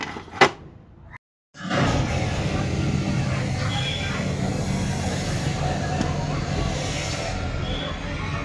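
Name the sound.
old Hero motorcycle engine started after repair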